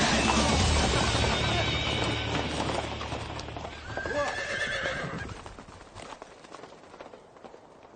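A horse on a dangerous path during a race whinnies loudly and its hooves clip-clop steadily, close at first and then fading into softer, scattered steps.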